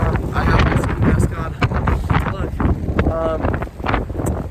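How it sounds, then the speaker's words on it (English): Wind buffets the microphone outdoors on a cold college campus, gusty low rumbling that surges and dips throughout while a person talks over it. "Okay, so it's a bit windy."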